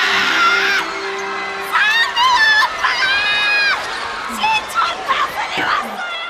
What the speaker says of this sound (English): fangirls of those basketball players scream "Oppa! Oppa!